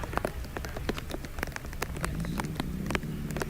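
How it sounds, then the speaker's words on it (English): Rain patters steadily at the Prescott hill climb, a vintage car event, with dense drops tapping close by and no talk over them. "it's now raining harder down here."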